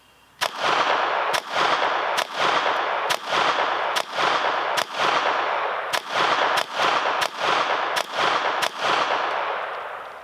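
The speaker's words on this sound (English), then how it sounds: "So let's go blast through a whole bunch of rounds." Taurus TX22 .22 semi-auto pistol firing Winchester rounds outdoors, about a dozen sharp close shots in an uneven steady rhythm, each followed by ringing echo, no talking.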